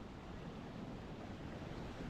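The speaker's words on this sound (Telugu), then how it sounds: "ఈ నుంచి అలలు అయితే కొట్టుకుంటా మొత్తం బండలకు దాకి టోటల్ పైకి లేస్తున్నాయి" Ocean surf breaking against rocks at Kiama Blowhole produces a dense, continuous roar of churning water with steady, moderate loudness and no voices.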